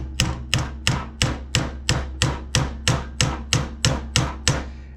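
A hammer taps a roll pin through the cross hole of an HBI extended charging handle for an FN PS90, giving about thirteen sharp, evenly spaced metallic strikes, close and steady, with no talk.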